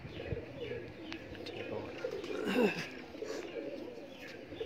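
Pigeons coo softly under brief spoken words, low rolling calls that swell near the middle and are joined by a few faint chirps.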